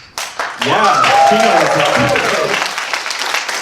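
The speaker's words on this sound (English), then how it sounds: "the other thing we're going to need from you guys a lot today is applause" A studio audience at a live show bursts into sustained, loud clapping and cheering that swells quickly and keeps going, with a brief voice calling out over it.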